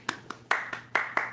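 A few people clapping in a short burst, six distinct sharp claps in quick uneven rhythm, close and fairly loud with no talking.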